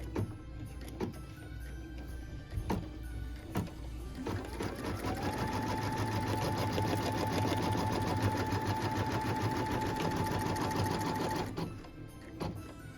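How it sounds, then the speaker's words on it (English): A sewing machine stitches a tack-down line on a felt ornament, starting with a few separate clicks and then settling into a steady, close whirring run before stopping near the end. "we can go ahead and stitch the tack down line"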